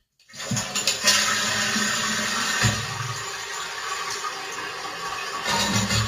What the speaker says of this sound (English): Let's import the toilet flush.